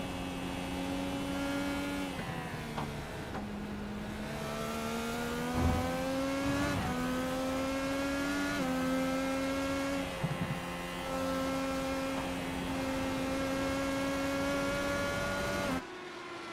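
A race car engine howls steadily at high revs on a track in the iRacing sim, heard from on board during a Stars and Stripes Series race at Canadian Tire, with pitch dipping and climbing through gear changes and corners, loud and continuous.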